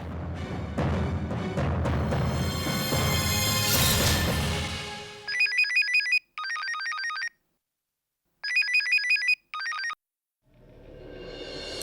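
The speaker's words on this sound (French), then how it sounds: "Pourquoi Bani ne répond pas au téléphone?" A telephone ringing in a French-dubbed TV drama scene: after a swell of loud dramatic music, a bright electronic ringtone sounds in four short trilling bursts separated by silences, close and clear, with no talking.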